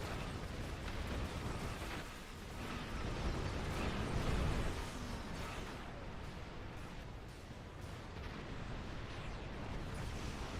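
A broadside weapon volley in the Star Trek Online video game fires at ships as a dense, continuous barrage of booming blasts and crackling bursts, swelling at the midpoint before settling into steady rumbling fire.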